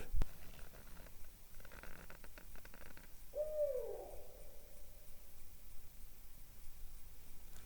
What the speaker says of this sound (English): I believe it's an owl.